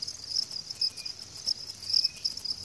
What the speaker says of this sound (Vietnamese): mình sẽ quay cho các bạn coi là cái con dế nó to như thế nào